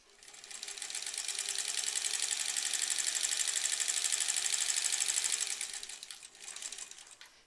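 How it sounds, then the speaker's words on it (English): Sewing machine stitching quilt squares, a fast, even mechanical whir with a steady needle rhythm that ramps up, runs continuously, then slows and briefly restarts, close and fairly quiet. "I'll sew this one as well."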